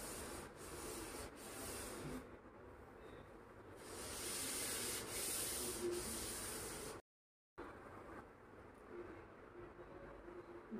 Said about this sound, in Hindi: हल्के हाथों से रब करूंगी।